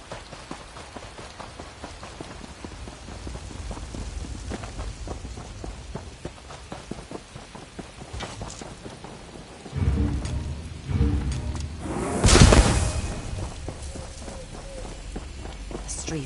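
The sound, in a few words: rain in Elder Scrolls video game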